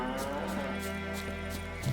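Cows mooing in Witcher 3, several low drawn-out moos overlapping in a steady rhythm over a constant ambient game drone, with no one speaking.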